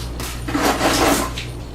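A whisk scrapes and clinks through thick eucalyptus spearmint soap batter, a busy run of close metallic stirring knocks and rattles over about two seconds with no talking.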